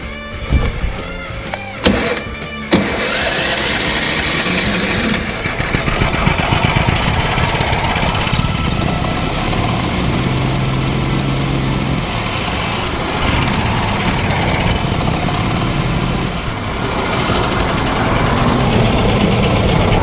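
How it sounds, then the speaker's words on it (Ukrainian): A car engine starts and settles into a steady idle, running loudly and continuously with a whining electric motor rising and falling over it, while exhaust is used to inflate tires. "І запускаємо двигун"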